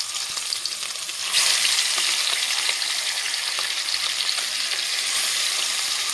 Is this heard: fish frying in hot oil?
yes